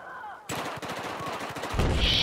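An MG4 machine gun firing in the video game Battlefield 4: a rapid, rhythmic burst of close, loud automatic gunfire, followed by a brighter, noisier blast at the end.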